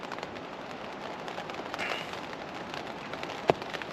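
Rain falls on a wild campsite in a light, even hiss, a faint swell of pattering partway through and one crisp drop striking close by near the end.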